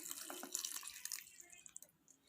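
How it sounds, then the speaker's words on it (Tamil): Water is poured into dosa batter, a faint splashing trickle with soft drips that tapers off over a couple of seconds. "1 கப்பு தண்ணி ஊற்றிக்கிடலாம்."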